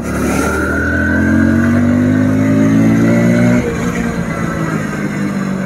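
A Hero Splendor 100cc motorcycle engine revs loud and close, its pitch climbing steadily and then dropping sharply as the throttle is released.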